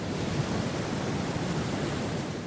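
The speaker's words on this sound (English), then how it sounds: "When they hit landfall, they produce enormous waves." Enormous ocean waves driven by hurricane-force winds make a continuous, loud roaring wash of surf with no distinct breaks, like a steady rush of water and wind.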